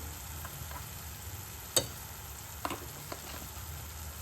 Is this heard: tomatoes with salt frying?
yes